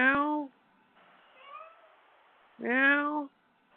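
Cat meowing as picked up through a Ring video doorbell, two clear drawn-out meows with a fainter murmur between them, thin and slightly compressed.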